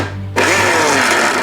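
A small electric grinder whirs loudly for about a second as roasted dates are lightly ground, starting abruptly after a brief low hum, close and alone.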